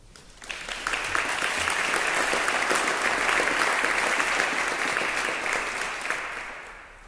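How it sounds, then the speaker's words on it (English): An awards ceremony audience breaks into applause, building quickly from quiet into sustained dense clapping that holds for several seconds before tapering off. "Please give them and yourselves a round of applause."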